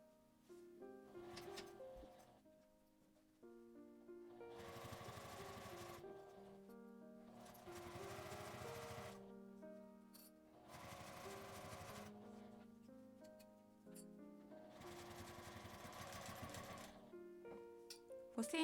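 Sewing machine running in several bursts of steady stitching on a medicine notebook pouch with a prescription pocket, each run a few seconds long and separated by short pauses, close and moderately loud with faint background music.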